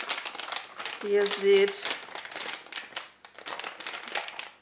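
A silver foil coffee bag crinkles as it is cut for a rose-making craft, with a few close, brief crackling rustles under steady German talk.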